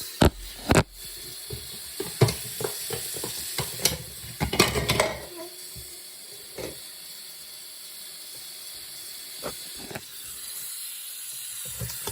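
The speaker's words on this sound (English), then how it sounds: "we'll take the lid off one-handed" A lid pried off a film developing tank one-handed, with a series of sharp plastic clicks, taps and scraping handling noises close by, then quieter rustling afterward.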